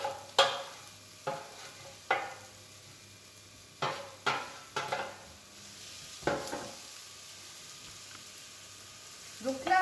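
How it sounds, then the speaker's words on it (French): Onions and bacon lardons frying in a pan, heard as a soft steady sizzle broken by repeated sharp scrapes and clatters of stirring, close by and with no voices. "Donc là, je fais revenir mes oignons avec mes lardons."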